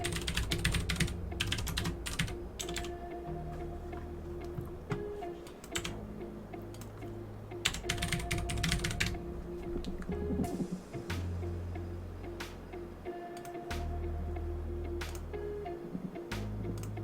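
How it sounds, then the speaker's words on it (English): Fingers type an email on a computer keyboard in bursts of quick, close clicks, with short pauses between runs and a low steady hum underneath. "So I'm going to type my email."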